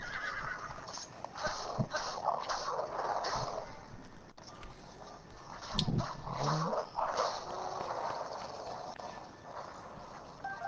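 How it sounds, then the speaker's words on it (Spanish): A hostile dog-like creature in the shooter game Black Ops 3 snarls and growls through a busy mix of game effects, with rough bursts rising and falling over about ten seconds alongside thuds and other in-game noise. "Tía, pero ese perro tiene mala hostia"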